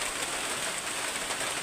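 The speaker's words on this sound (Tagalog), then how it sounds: "Lumalakas na yung ulan." Heavy rain roars in a thick, unbroken wash, close and loud for a short stretch with no voices.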